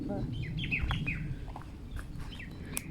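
Several short bird chirps and calls ring out over steady low outdoor rumble, scattered across a few seconds with one sharper call near the end.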